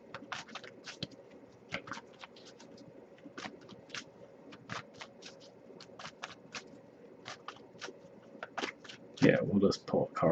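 Repeated sharp riffling snaps of a tarot deck being shuffled by hand, a steady run of quick card flutters up close with a louder burst near the end.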